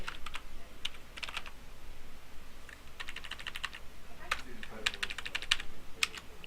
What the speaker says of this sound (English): After that, you can start typing.